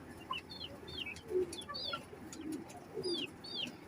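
Salari teddy pigeon cooing in soft, low repeated phrases, with sharper chirping calls from other birds overhead, close and fairly quiet.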